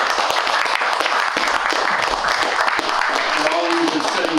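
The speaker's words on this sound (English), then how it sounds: "Let's give them all a great round of applause." An audience at a historical society open house applauds the speakers with full, sustained clapping that stays loud from start to finish, with some voices mixed in near the end.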